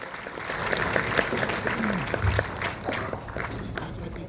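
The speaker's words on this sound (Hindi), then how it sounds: "बसंत जी के लिए जोरदार तालियां।" Sustained applause from an audience at a state-level ceremony in Jaipur, a dense, steady patter of many hands clapping throughout, with a brief low thump midway.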